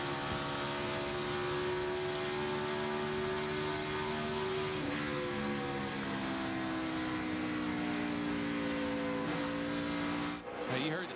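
A NASCAR stock car, number 11, at Pocono Raceway in 2006, its engine droning steadily with a slowly shifting pitch as it passes, a sharp burst near the end, with commentary voices underneath.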